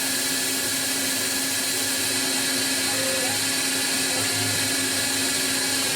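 A Tormach lathe takes a finishing pass on titanium screws, giving a steady loud machining whine with a constant hum throughout, close and unbroken.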